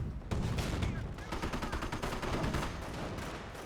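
Rapid bursts of battlefield gunfire from a Company of Heroes match pile up in dense, continuous volleys over a steady low rumble, with a voice faintly underneath.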